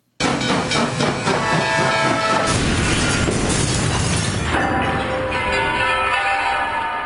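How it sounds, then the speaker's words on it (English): An Amtrak train roars past loudly and close, a sustained rushing clatter with hissing, lasting several seconds before easing slightly. "Whoa, I think that was an Amtrak train."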